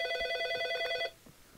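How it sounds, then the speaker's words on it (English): A telephone rings in one sustained electronic ringing burst that cuts off abruptly, leaving quiet room noise behind. "I would get interrupted by a phone."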